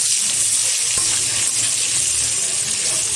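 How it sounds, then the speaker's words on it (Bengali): Chopped large onion sizzles in hot oil alongside dried red chillies for a puffed-rice ghonto, a steady bright hiss of frying running throughout without talk. "খুব ভালোভাবে পেঁয়াজটা ভেজে নেব।"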